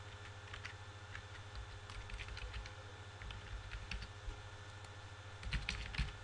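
Fingers type an email on a computer keyboard, quiet irregular key clicks in short bursts over a faint steady electrical hum, closing with a louder cluster of taps.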